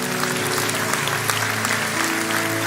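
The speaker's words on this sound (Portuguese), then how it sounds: "Aplaude ao Senhor" A church congregation applauds steadily through an evening worship service, the dense clapping continuous and fairly loud, with a sustained musical tone running underneath.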